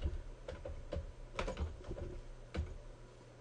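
Keystrokes on a computer keyboard while entering text in Photoshop, a quiet, irregular run of soft clicks with a few brief bursts of faster taps, close and alone.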